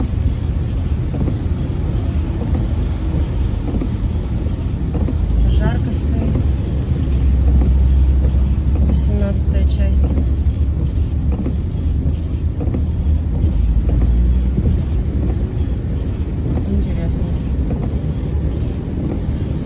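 A car driving along a road toward Gelendzhik in rainy southern Russian weather: steady, loud cabin rumble of tires and engine with wind buffeting, continuous throughout, with a voice talking faintly over it.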